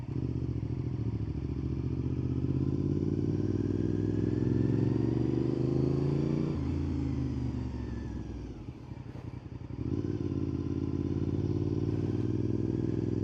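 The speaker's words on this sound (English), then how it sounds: "the exhaust has a much deeper sound" Honda VTR 1000 SP2 motorcycle idling with a deep, throbbing V-twin exhaust, steady and close, a brief dip and mechanical rattle midway before the even rumble resumes, no talking.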